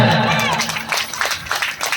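A crowd at a Bhagavat Katha devotional gathering claps along in a quick, rhythmic beat that rises out of a fading musical note, loud and close, with sharp, evenly spaced hand strikes.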